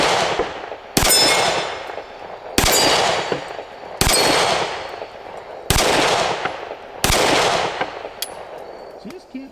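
Six sharp pistol shots from a Sig P365 fitted with a Wilson Combat grip module, spaced about a second and a half apart, each followed by a ringing metallic clang and decaying reverberation as the rounds strike steel targets outdoors.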